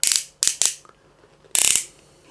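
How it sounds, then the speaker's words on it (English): A ratcheting microphone boom on a My Little Eagle youth aviation headset clicks into position, with quick close clusters of sharp ratchet clicks, a pause, then another burst of clicks. "it clicks into a position and then it stays where you put it"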